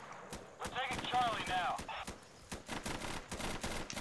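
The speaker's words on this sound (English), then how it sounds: "someone's firing in this direction" Gunfire in the tactical shooter Insurgency, sharp shots snapping in a rapid burst, mixed with other game noise over about four seconds, moderately loud.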